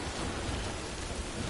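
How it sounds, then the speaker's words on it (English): Steady, dense rainfall from the video game Death Stranding pours without a break, a loud, even wash of drops on surfaces. "Currently all my shit is breaking because of the rain"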